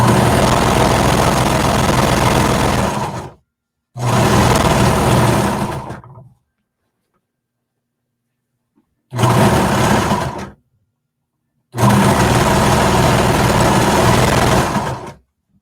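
A sewing machine stitches around a jacket pocket in four loud bursts of rapid, steady whirring, separated by silent pauses.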